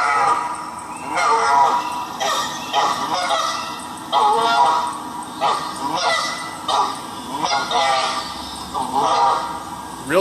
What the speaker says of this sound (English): So here's an example of a short moan.